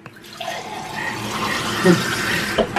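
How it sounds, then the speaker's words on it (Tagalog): Water poured from a tap into a pan of meat marinated in salt and pepper before it goes into the oven: a steady, close splashing stream lasting a few seconds. "Ngayon, lalagyan ko ng tubig at ilalagay ko to sa oven"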